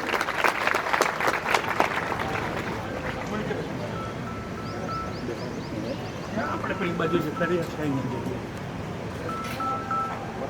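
Audience applause welcoming a guest at a university Gandhi fair in Maliba, a burst of clapping in the first couple of seconds that thins out, with a voice and room murmur continuing over faint residual claps.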